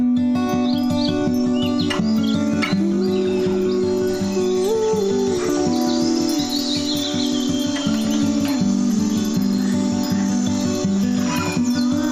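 Bird chirping sound effect, a dense layer of repeated high chirps and trills over a loud, steady tonal music-like bed, continuous and close throughout.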